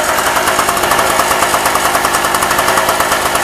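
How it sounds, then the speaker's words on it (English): A two-stroke generator engine runs close by at a fast, even idle, its rapid pulsing firing beats repeating steadily and loudly, with no voices. "Pretty quiet for a two-stroke"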